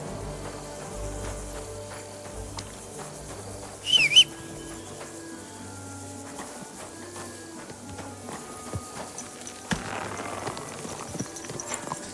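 Horse hooves clop at a walking pace in Kingdom Come Deliverance 2, quiet and steady under low ambient game music, with a brief whistle-like chirp and occasional birdsong.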